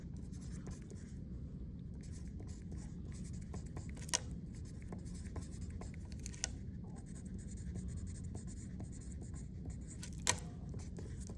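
Pen or pencil writing math notation for set and interval notation, a steady faint scratching across the whole stretch with a few sharper taps, no talk.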